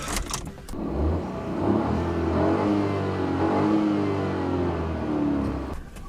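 A 2014 Ford Fiesta with a 1.0L EcoBoost turbo engine starts up, a brief crank followed by a steady, moderately loud idle with small rises in revs, heard from inside the car.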